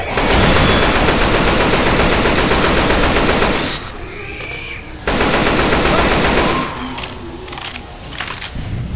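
Rapid gunfire in the zombie shooter Left 4 Dead 2, loud sustained automatic bursts that drop away briefly and then resume, with no voices.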